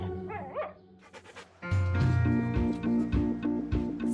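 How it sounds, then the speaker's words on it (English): Several chihuahuas bark and yip in a loud, overlapping burst after a quieter start with a whine, the small dogs' rapid barks continuing close by. "We have 7 chihuahuas."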